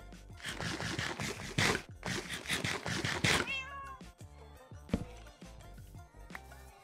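Several meows from a cat in the Minecraft video game, loud and close, come in repeated bursts over the first half, then give way to quieter game sounds with sharp clicks.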